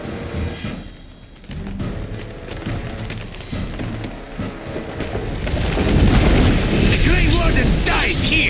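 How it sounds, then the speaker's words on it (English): Bomb explosions during a Dragon Age video game fight, loud rumbling booms swelling into a dense, continuous roar that builds toward the end, with voices mixed in. "all the noise and bombs"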